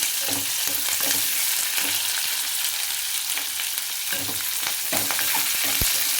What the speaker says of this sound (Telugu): ఐటమ్స్ అన్నీ వేస్తాను తాలింపు ఇది బాగా కొంచెం వేగాక